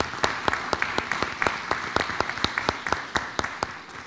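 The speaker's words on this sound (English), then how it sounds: "Give Ms. Bogues a round of applause, please." Applause rings out at a school board of education meeting as a board member is honored, a steady round of distinct hand claps from a room of people, moderately loud and unaccompanied by talk.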